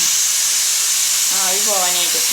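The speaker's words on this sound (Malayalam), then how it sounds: "ആവി പോയിട്ട് വേണം ഇതെടുക്കാൻ വേണ്ടി" Steady, loud hiss of steam escaping a pressure cooker after five whistles of cooking chana dal, continuing throughout, with a brief tonal voice-like sound near the end.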